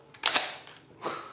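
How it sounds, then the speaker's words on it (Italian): The shutter release of a Zenit 16 camera fires: a sharp mechanical clack and snap, then a softer second click about a second later, close and alone with no talking. "è il pulsante di scatto, che non sta qua, non sta qua e non sta nemmeno qua"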